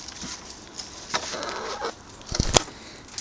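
Chickens cluck in short, scattered bursts, with a couple of sharper calls near the end over a faint background hiss.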